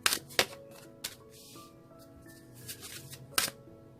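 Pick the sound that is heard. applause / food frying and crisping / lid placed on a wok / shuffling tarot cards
shuffling tarot cards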